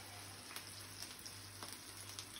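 Onion sautéing with salt in a pan gives a faint, steady sizzling hiss with a few soft crackles, quiet and continuous throughout.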